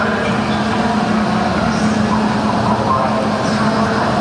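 A train at São Bento station in Porto, Portugal, gives off a steady, loud rumble and hum of rolling stock that stays constant throughout, with no breaks.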